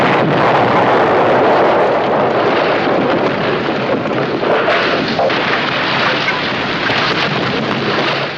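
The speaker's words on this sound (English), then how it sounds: "lobbing a Molotov cocktail at his house, which apparently is built out of napalm" A house bursts into flames after a Molotov cocktail is thrown at it in a horror film, a loud continuous roar of fire and blast noise that rumbles on steadily without letup.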